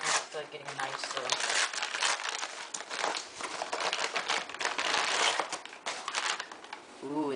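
A small package is cut and torn open with a knife, close-up crinkling and rustling of plastic and paper in bursts, with a person speaking over it.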